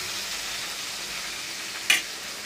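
Pav bhaji mixed with butter and coriander in a pan: steady close frying sizzle with one brief scrape of the spatula near the end.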